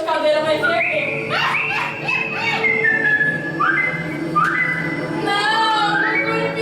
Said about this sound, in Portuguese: chama o Curupira com o seu assobio